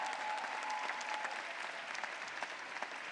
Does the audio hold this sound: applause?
yes